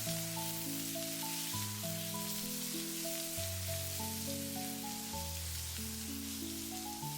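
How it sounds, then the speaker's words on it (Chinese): Fried gluten puffs stir-fried in a wok over high heat give a steady sizzling hiss throughout, beneath louder background music with sustained tones. "接着把控干水分的油面筋直接倒在锅中，开大火快速翻炒均匀"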